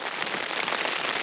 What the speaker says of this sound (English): I'm just going to listen to rain a bit